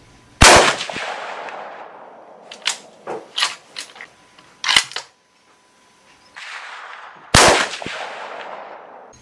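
.243 Winchester rifle firing 100 grain Core-Lokt rounds at an outdoor shooting range: three loud, sharp reports spaced several seconds apart, each with a decaying echo, and fainter clicks and handling noises in between.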